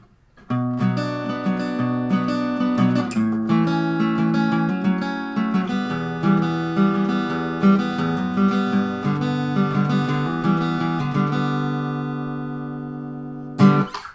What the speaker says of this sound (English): And that's how you play the intro.